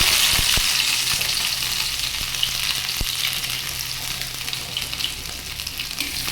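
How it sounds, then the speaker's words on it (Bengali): Crushed ginger fries in hot oil for a home vegetarian dal tempering, a dense continuous sizzle heard close up with a few faint utensil taps. "আমি প্রথমে থেতো করা আদাটা দিয়ে দিচ্ছি।"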